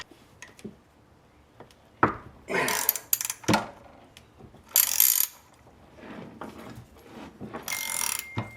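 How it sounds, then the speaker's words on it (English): A 21 mm (5/8) ratcheting wrench turns a bolt to pull a power steering pump pulley fitted since 1989, sounding as close bursts of rapid clicking separated by quiet pauses and light metallic knocks. "This is a 21 mil 5/8 ratcheting wrench here."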